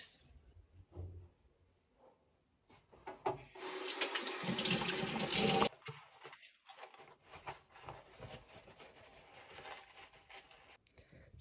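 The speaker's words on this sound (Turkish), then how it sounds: "İlk önce bir elimi yüzümü yıkayayım" Water runs from a tap into a sink as hands and face are washed, with a steady loud stream in the middle of the clip and softer splashing and trickling around it.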